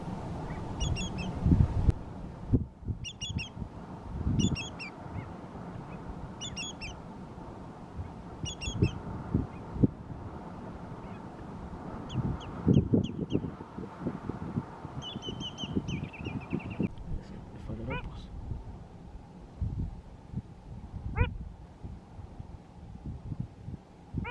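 Repeated honking and quacking calls from a flock of wading birds at Carhué, some near and some farther off, with splashing and rustling underneath.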